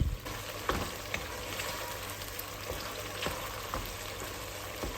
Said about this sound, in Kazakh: Яғни сұйық майымыз қызған кезде ғана етті саламыз және 10 минуттай жақсылап қуыратын боламыз